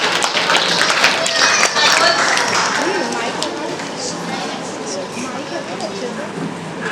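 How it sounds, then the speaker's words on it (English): An audience at a school Independence Day function applauds a young child dressed as a freedom fighter. Scattered clapping and crowd noise are loudest at first, then thin out under chatter and children's voices. "Welcome of little energetic freedom fighter with a huge round of applause."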